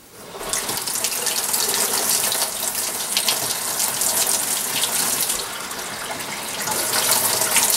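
Steady water from a tap splashes into a sink while brownie batter is being made, a continuous near hiss that keeps running for several seconds, alone without speech.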